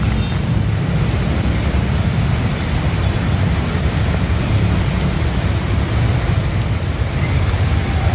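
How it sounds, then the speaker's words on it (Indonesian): Heavy rain pouring down in Jakarta, a steady, loud, dense hiss of rainfall on street surfaces that holds constant without pause, with no voices present. "Hujan deras yang mengguyur Jakarta membuat jalan ini tergenang setinggi 30 cm."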